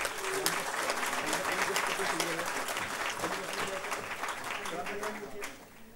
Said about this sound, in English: I would request all of you to give a huge round of applause